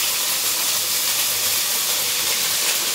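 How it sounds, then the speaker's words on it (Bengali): Ginger and garlic paste frying in a pan for a Bengali lemon pepper chicken, a steady, close, even hiss of sizzling oil that runs for the whole stretch with no speech. "আদা রসুন বাটাটা এবার আমি একটু ফ্রাই করে নেব।"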